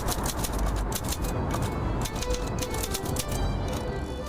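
A street poet types on a manual typewriter, keys striking in quick, uneven bursts with short pauses, close and clear over a faint outdoor background.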